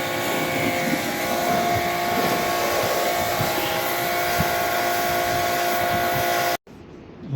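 A floor-mounted air conditioner runs during a test after cleaning, giving a loud, steady blower whoosh with a constant hum that cuts off abruptly near the end.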